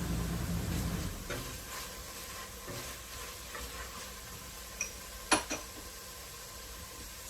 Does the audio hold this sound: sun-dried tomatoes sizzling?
yes